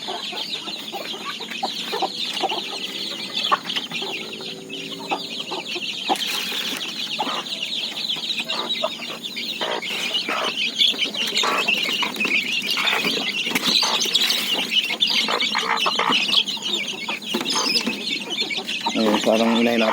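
Hens cluck steadily in a backyard flock, close and busy for the whole stretch, with faint talk mixed in.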